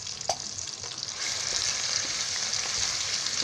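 Ground masala paste for field bean rice roasts in a pan, giving a steady close sizzle that thickens after a brief utensil knock near the start.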